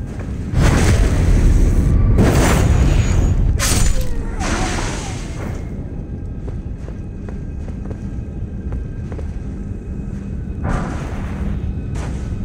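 Bomb traps in Elden Ring's Volcano Manor explode in several loud, heavy booms packed into the first few seconds, then fade into crackling debris, with another blast near the end.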